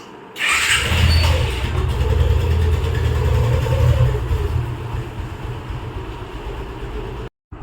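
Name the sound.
motorcycle engine while riding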